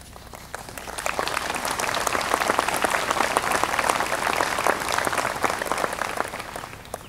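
Sustained audience applause at a university commencement ceremony, a dense, steady crowd of many hands clapping together for veterans, swelling slightly mid-way and holding loud throughout before easing at the end.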